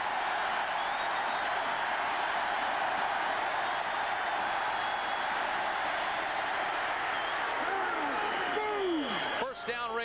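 A large Arkansas football stadium crowd roars steadily through a fourth-down play. The dense, sustained cheering swells and stays loud throughout, and a whistle-like sweep is heard at the very end.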